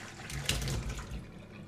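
Water from a saucepan of boiled King Edward potatoes pours into a sink, a short rushing splash that swells then tapers off, close and alone.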